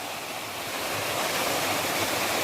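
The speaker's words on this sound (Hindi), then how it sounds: "जहां एक प्राकृतिक झरना है" A natural waterfall beside a hill near a village in Uttarakhand gives off a steady, dense rushing roar of falling water, continuous and fairly close, with no voices.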